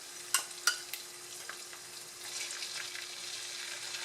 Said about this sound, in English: my sofrito and tomato sauce are well sauteed, as you can see